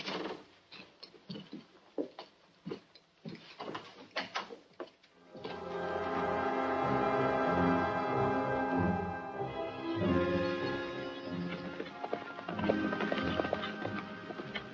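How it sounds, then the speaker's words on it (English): Horse hooves clip-clop at a steady trot through the first five seconds, then are buried under swelling orchestral music for the rest of the clip, on a Western serial's soundtrack. "Saddle my horse while I get ready, will you?"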